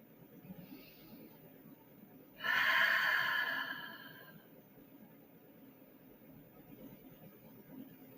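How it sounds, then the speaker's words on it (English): A single long, breathy exhale during a yoga flow, rising suddenly, fairly close and loud, then trailing off into quiet room tone. "So you inhale and you exhale."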